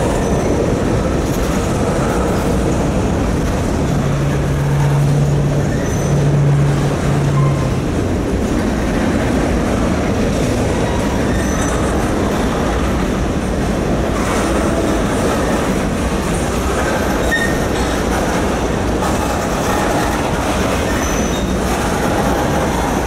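A train rolls past on a railroad near Richmond, Virginia, a loud continuous rumble of wheels and cars that lasts throughout, with a brief horn-like tone early on.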